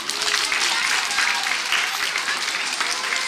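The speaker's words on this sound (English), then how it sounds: "Give her a round of applause." Dense applause from a sizeable school audience, loud and sustained throughout, with faint voices mixed into the clapping.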